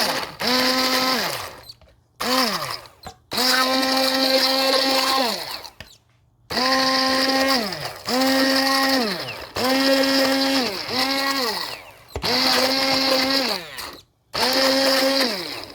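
Fresh tomatoes being blended into a thick passata sauce, the motor whirring loudly in repeated bursts of a few seconds each, its pitch rising and settling, with short pauses between bursts.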